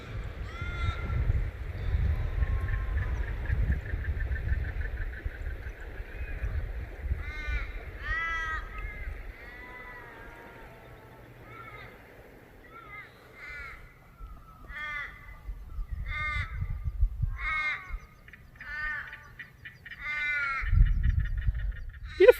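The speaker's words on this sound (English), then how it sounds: "And my friends the crows are back." Crows caw repeatedly beside the Murray River during a solo canoe camping trip, harsh calls in irregular bursts that grow more frequent later, over low rumbling wind or water noise.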